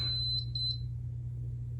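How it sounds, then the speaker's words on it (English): Small portable tumbler heat press heated to 360 beeping, a quick series of about three high electronic beeps over a steady low hum from the machine. "that one remained heated at 360, which is why it immediately started beeping"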